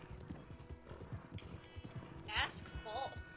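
A horse gallops in the video game Red Dead Online, with fast, rhythmic hoofbeats close up and a whinny near the end, heard under people talking.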